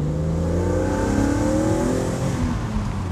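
A BMW E86 Z4M Coupé with its 343 PS engine and sport button engaged accelerates hard, loud and close, the engine note climbing steadily in pitch through a continuous rising rev with no talking.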